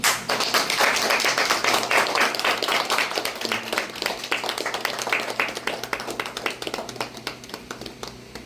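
A crowd of people clapping their hands together at a gathering in Ranchi, Jharkhand, loud sustained applause that gradually thins and fades toward the end, with faint voices underneath.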